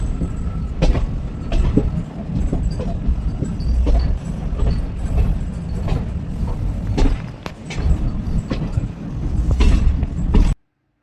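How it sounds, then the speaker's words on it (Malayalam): Riding a train along the coast at Sangwal, with a steady rolling rumble and rhythmic clickety-clack of wheels over rail joints, loud and close, continuing for several seconds before cutting off abruptly. "ഒരു സൈഡിൽ കൂടെ നമ്മളിങ്ങനെ ട്രെയിനിൽ പോകുന്നു"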